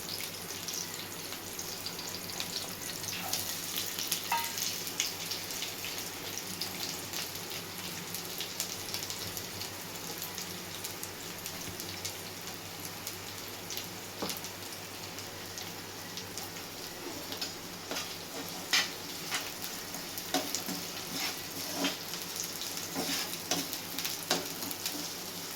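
Green chillies and chopped onions fry in a pan for a potato curry, giving a steady soft sizzle with occasional crackles and small pops throughout, close and continuous with no talking.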